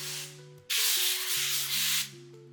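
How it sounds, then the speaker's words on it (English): Olive oil sprays from a can onto turkey meatballs in two hissing bursts, a short one then a longer sustained spray, up close over a faint steady musical tone. "So I'm going to spray in some olive oil on it"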